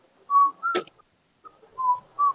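A person whistles a short, bright tune of a few sustained and sliding notes, stops briefly after a small click, then resumes with more notes, heard alone and close.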